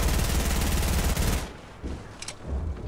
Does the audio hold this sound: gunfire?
yes